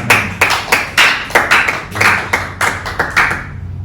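A church congregation claps in a steady rhythm during a Sunday service, sharp hand claps repeating at a lively beat, fairly close and loud, with no talking over them.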